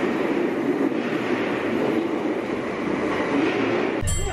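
A Merseyrail electric train, unit 58114, arriving at the West Kirby terminus: a steady, loud rumble and hum of rolling stock throughout, ending in an abrupt shift as the train comes to rest.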